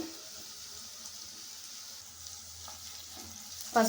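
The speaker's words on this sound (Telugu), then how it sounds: "ఉల్లిపాయ ముక్కలు వేగుతున్నాయి" Onion pieces fry in a pan for an amaranth curry, giving a steady, soft sizzle that runs throughout, with a brief louder clatter near the end.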